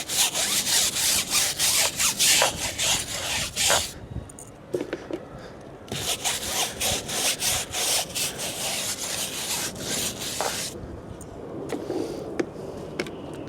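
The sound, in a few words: tire brush scrubbing a car tire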